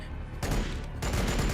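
Dense volleys of bolt pistol fire in the Warhammer 40K game Deeds of the Fallen, loud and continuous, with a second burst swelling in about midway.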